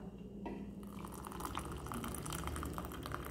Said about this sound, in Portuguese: coloco a água.